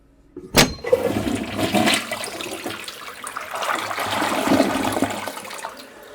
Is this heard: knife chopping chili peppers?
no